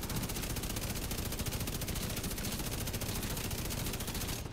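Sustained automatic gunfire from shooting in a video game, rapid dense bursts rattling loud and close for nearly five seconds without pause, cutting off sharply at the end.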